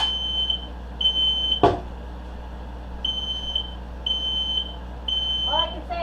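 Smoke alarm in a kitchen beeping during salsa verde cooking, repeated high piercing tones in an intermittent pattern, with a clattering knock and brief voice sounds in between.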